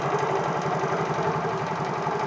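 A motorcycle engine idles steadily after being restarted, a close, even low putter with a regular firing rhythm and no talk over it.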